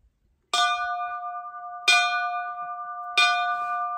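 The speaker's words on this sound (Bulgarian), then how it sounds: "Тео, яви камбаната." A bell rung on arrival at a Rila mountain summit, struck three times at steady intervals, each clang ringing with sustained tones that hang on between strikes, close and clear with no talking.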